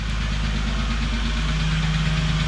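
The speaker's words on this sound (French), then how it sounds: "le moteur est démarré" A turbocharged BMW E36 engine running at idle right after it is started, with a steady, close, loud mechanical drone and a slight ticking from a noisy lifter.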